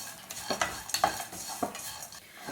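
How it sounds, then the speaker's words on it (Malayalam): Raw peanuts and coconut roast in oil in a pan with a soft, quiet sizzle, broken by several light scrapes and taps of a spoon stirring against the metal. No one speaks. "ഞാനിപ്പോൾ പച്ചക്കപ്പലണ്ടിയാണ് ചേർത്തത്, അത് കാരണം അതൊന്ന് ഫ്രൈ ആയിട്ട് വരണം"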